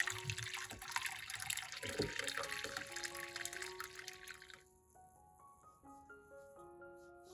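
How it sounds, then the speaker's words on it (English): Dragon fruit peel water pours steadily into a tray for a few seconds with a soft splashing hiss, then stops as quiet music continues underneath. "Pour in the prepared dragon fruit peel water."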